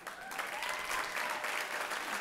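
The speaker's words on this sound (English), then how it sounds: "Give your uplines a round of applause." Sustained applause from a conference audience fills a large hall, steady and dense throughout, with a few faint voices mixed in.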